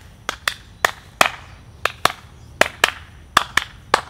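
Bare hands clapping during horse desensitization training, about ten sharp, close claps in an uneven rhythm, some in quick pairs, with nothing else heard.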